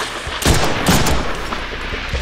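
Deadpool video game gunfire: several sharp, close shots in a rapid burst, loud and punchy, with no voices over them.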